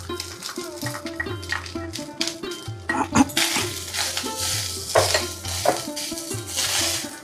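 Grated fresh coconut and cashews are sautéed in ghee in a pan for steamed modak filling, with clattering spoon strokes against the pan over a soft sizzle and a humming tone in the background.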